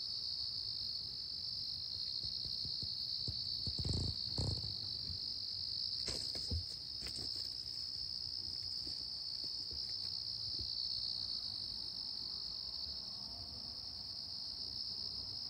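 Crickets chirp steadily through a beautiful morning, a continuous high, even trill held throughout with a few soft low thumps and rustles beneath it.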